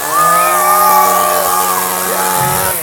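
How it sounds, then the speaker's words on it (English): A gas-powered two-stroke Echo chainsaw roars steadily at high revs, loud and close, its engine pitch wavering slightly as it runs. "this fully functional 2-stroke engine, gas-powered, Orange Echo brand chainsaw"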